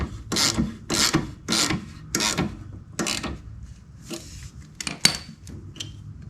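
A wrench ratchets on the mounting bolts of motorcycle highway pegs, giving close, loud rasping clicks in short repeated bursts, about seven strokes, with tighter, quicker clicks toward the end.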